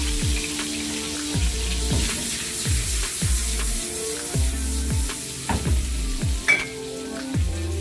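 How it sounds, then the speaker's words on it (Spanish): Garlic sizzles in melted butter in a pan, a steady frying hiss broken by repeated low knocks and taps of a utensil at a regular pace, close and clear with no speech. "Una vez que tengamos la mantequilla diluida, vamos a adicionar el ajo."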